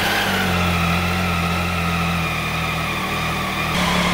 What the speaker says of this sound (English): We're going to go ahead and start the bike now and see if we can tune on these throttle bodies